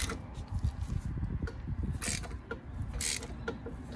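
Bolts being tightened into the threaded holes of a rear brake rotor on a 2001-2007 Subaru Impreza WRX to push it off the hub, giving close irregular mechanical ticks and scrapes with a few brief ratcheting clicks, no talking.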